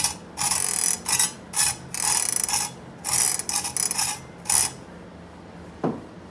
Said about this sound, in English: If there's any metal left in this thing, or it's been cutting, it'll make it grind wrong.